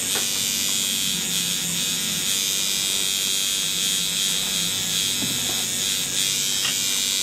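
A tattoo machine runs steadily through black and grey shading work, giving a continuous close electric buzz with a slight whine that holds at an even level throughout, with no talking over it.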